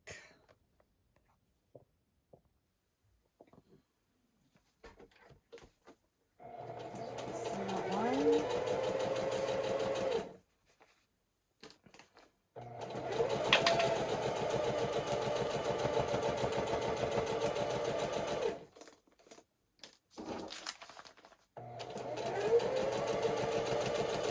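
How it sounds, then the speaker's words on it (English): A sewing machine stitches a 24 by 36 inch foundation paper pieced tall pine tree quilt. The motor whirs in three sustained bursts separated by quiet pauses, close and fairly loud. "So this is how you're going to sew."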